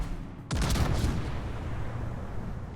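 A World of Warships battleship turret fires one heavy, booming broadside. The sudden loud blast rolls out into a long, rumbling decay, and no voices are heard.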